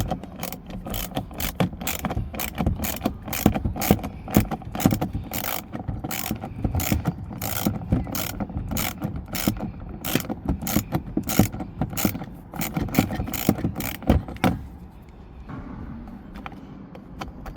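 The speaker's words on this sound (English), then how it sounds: "now let's remove the 7mm bolt right here" Ratchet removing a 7mm bolt from a panel on a Dodge Durango, a long run of rapid, loud clicking strokes close up, stopping near the end into quieter handling noise.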